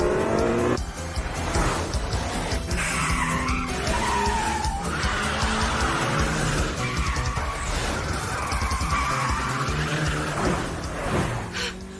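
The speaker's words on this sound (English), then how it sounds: "What I got is a high-speed four-wheel drive drift with an engine always on full blast." A four-wheel-drive car roars at full throttle through a long high-speed drift, tires squealing continuously over the screaming engine, loud and close, in the Initial D racing game.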